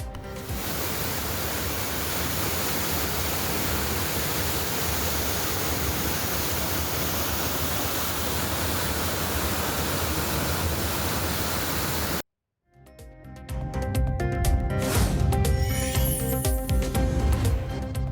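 Flooding waterfalls at Courtallam pour in a loud, unbroken roar of rushing water that fills the first twelve seconds, then cut off abruptly to other sounds.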